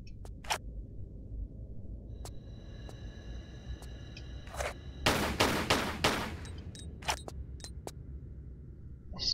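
Video game gunfire aimed at a breakable object: sharp isolated shots spaced over several seconds, then a tight cluster of loud bursts in the middle, with a few more scattered shots after, against a quiet background.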